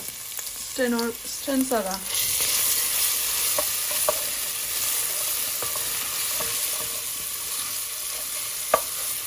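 Hot oil frying in a pan for a Sylheti home-cooked dish, a steady broadband sizzle that runs nearly throughout, with brief speech at the start and a few clinks of stirring.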